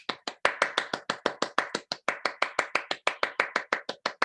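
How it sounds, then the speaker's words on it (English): Hands clap quickly and crisply in an even rhythm, about five claps a second. The sharp, close claps sound alone, with no talking over them. "Let's start by clapping really fast"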